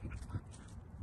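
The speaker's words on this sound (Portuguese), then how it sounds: "A Zoe tá toda eufórica com os outros cachorros ali" Excited dogs whimper and yip softly at a low level, a few brief bursts scattered across a second of faint background noise.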